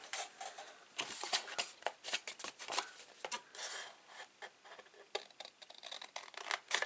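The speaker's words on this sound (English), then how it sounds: "take your long scissors and take this piece off completely" Long scissors cut through thick cardstock in quick crisp snips and rustling paper handling, close and steady throughout with no voices.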